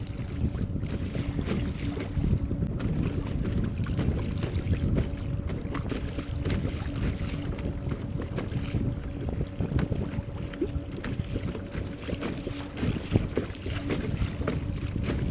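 Steady wind and choppy waves slap around a low-sitting Seastream Openwater V2 kayak with a Bixpy J2 motor out on open water, a continuous broad rushing wash with irregular splashes throughout, no talking.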